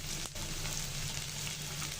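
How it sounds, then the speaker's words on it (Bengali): Onion fries in hot oil in a pan with a steady, dense sizzle that carries on without a break and with no voices. "পেঁয়াজটাকে ভালো করে ভেজে নিয়েছি।"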